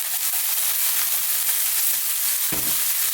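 Onions sizzling in a hot pan during curry cooking, a steady, close crackle and hiss with a short thud partway through.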